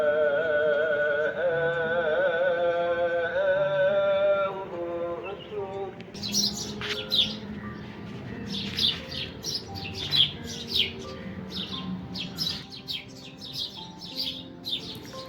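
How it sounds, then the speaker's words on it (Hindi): Birds chirp and tweet in quick, repeated morning calls at a distance in Alibaug. A droning tonal hum opens the clip before fading away. "ये जो चिड़ियाओं की मीठी मीठी आवाज़ है बहुत अच्छी लगती है सुनने में।"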